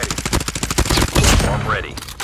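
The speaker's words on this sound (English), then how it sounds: "Sentry gun deployed." In Call of Duty Mobile, a sentry gun fires a rapid burst of close, loud automatic shots that break into a short spray of gunfire, with game effects around it.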